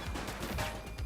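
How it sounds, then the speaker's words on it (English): Burst of enemy gunfire in The Precinct video game, a quick run of loud, closely spaced shots filling a brief moment with no talk over it. "He's shooting!"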